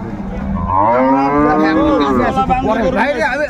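A dairy cow at a rural cattle market gives one long, loud, rising-and-falling moo that lasts several seconds, close by and with no talk over it.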